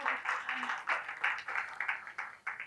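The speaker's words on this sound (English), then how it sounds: "So big round of applause for Vaishali ma'am." Audience applause at a conference session, a steady rustling patter of many hands clapping at moderate distance, rising and falling in small pulses throughout.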